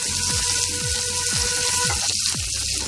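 Chopped onion and green chilli fry in a pan with a steady loud sizzle and a few soft scraping stirs.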